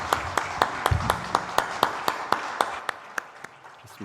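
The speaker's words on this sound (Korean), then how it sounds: "하나님께 영광의 박수 올려드리겠습니다" A congregation at a joint Sunday worship service in church claps in steady unison, a regular rhythm of about fifteen sharp claps over a reverberant room tone that eases slightly toward the end.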